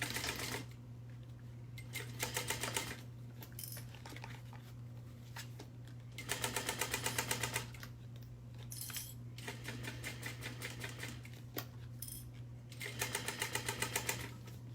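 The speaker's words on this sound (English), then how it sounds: "I'm going to top stitch this at a 1/4 inch." A sewing machine top stitching fabric at a quarter-inch seam with a long stitch length, running in several rapid mechanical bursts separated by pauses, steady and close, over a constant low hum.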